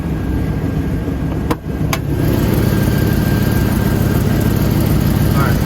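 A car engine with no lifter tick idles steadily and close, a low even rumble broken briefly by two sharp clicks early on.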